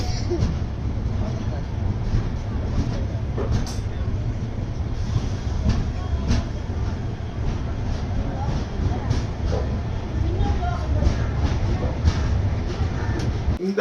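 The Thirukkural Express, a biweekly express train, rumbles past continuously with a low, rolling roar and faint rhythmic rattling of carriages, heard close and loud throughout.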